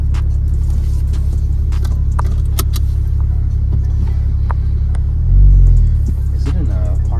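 Steady low rumble and broadband wind noise inside a moving Porsche 911 Turbo S, continuous throughout with a brief louder low swell near the end, faint clicks and rattles scattered on top.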